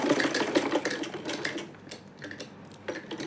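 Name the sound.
sewing machine stitching along drawn line on buckram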